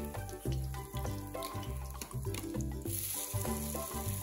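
Garlic fries in hot refined oil in a kadai for momo stuffing, giving a continuous soft sizzle that sits beneath prominent background music.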